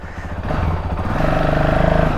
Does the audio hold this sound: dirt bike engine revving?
yes